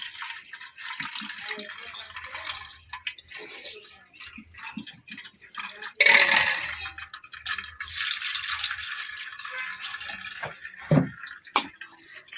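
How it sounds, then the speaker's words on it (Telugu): Water splashes and trickles in short bursts as vegetables are rinsed by hand, with a louder gush midway and scattered drips. "నీళ్ళు వేసి బాగా గా కడుక్కుంటే"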